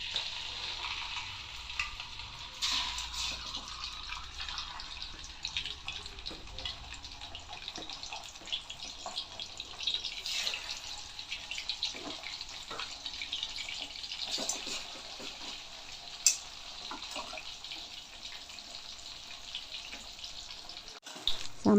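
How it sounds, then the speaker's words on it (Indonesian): Marinated fish frying in a pan of oil gives a faint, steady sizzle with scattered soft pops and crackles running throughout. "Goreng ikan yang sudah dimarinasi tadi."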